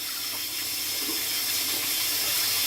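Hot water pours steadily from a tap into a sink while a head is being shaved, a dense, even rushing hiss that fills the whole stretch at close range without any speech.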